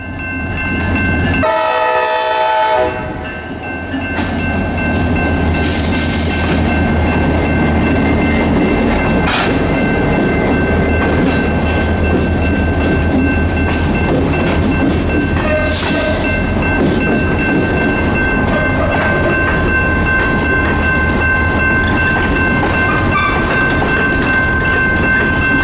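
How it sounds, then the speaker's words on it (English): A CSX local freight train rolls steadily past, loud and close, with a horn blast near the start followed by continuous rumbling, rhythmic wheel clatter and squeals from the cars. "A766 was rolling by the auto train facility in no time."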